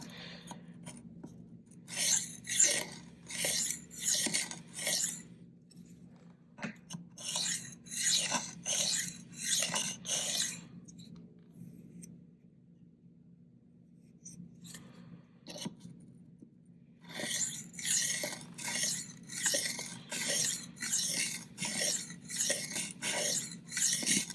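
A knife drawn freehand across a coarse 150-grit whetstone makes bursts of rhythmic gritty rasping strokes, several quick passes per burst with short quiet pauses between, close and fairly soft.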